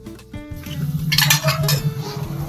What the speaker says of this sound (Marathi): या इथे कांदा टाकते आहे मी परतायला